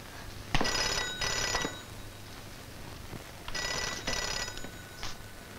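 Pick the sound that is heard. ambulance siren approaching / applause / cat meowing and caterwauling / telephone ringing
telephone ringing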